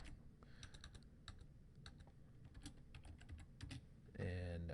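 Quick bursts of keystrokes on a computer keyboard, typing a command into a 3D animation program's input line, uneven clicks close and clear over a low background hum, ending in a louder steady tone.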